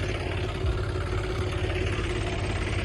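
A John Deere tractor hitched to a heavy super seeder for wheat sowing idles close by, a steady, even low engine drone with no breaks.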